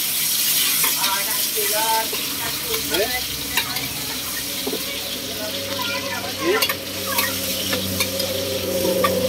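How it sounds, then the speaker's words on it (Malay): Garlic sautéing in hot oil in a wok for mee goreng basah, a steady close sizzle broken by repeated scraping stirs of a spatula, with faint background voices and clatter. "Tumiskan bawang putih."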